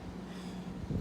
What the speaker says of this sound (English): but once again, it's windy here in Texas right now.